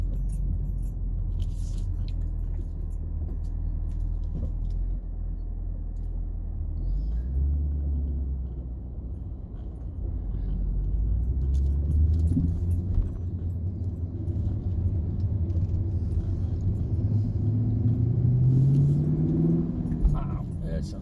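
Steady road rumble from inside a car caught in heavy traffic on Nantucket, a low engine drone with a rising tone near the end as the car moves, and a person talking over it.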